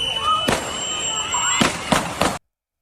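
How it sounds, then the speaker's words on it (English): Gunshots from a recorded shooting during a Minnesota immigration enforcement incident, several sharp cracks: one, then a quick cluster of three, loud against a tonal background before the sound cuts off. "And then shots rang out."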